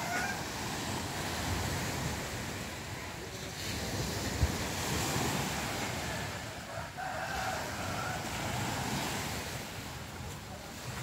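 Sea waves at a provincial beach in the Philippines, rough and choppy water, heard as a steady broadband wash of surf with wind noise on the microphone, continuous and fairly loud throughout.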